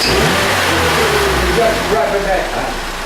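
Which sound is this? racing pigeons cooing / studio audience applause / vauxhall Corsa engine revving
vauxhall Corsa engine revving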